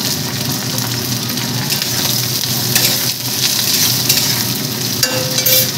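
Potatoes fry in a pan with a loud, dense, close-up sizzle that stays steady from start to finish, crackling like rain, with occasional faint utensil touches and no talking.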